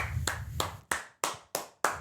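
Six slow, deliberate hand claps ring out close and crisp, evenly spaced with short gaps of quiet between them.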